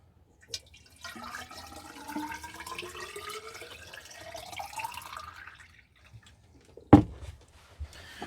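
Liquid pouring in a steady rising stream into a container for about five seconds, then a sharp clunk and a few drips, quiet and close in a woodland setting with no talk.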